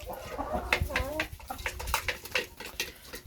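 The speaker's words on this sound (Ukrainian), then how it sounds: "Далі півень, легорн." Leghorn chickens clucking nearby with a Leghorn rooster's calls mixed in, a busy run of short bird vocalizations over steady farmyard background.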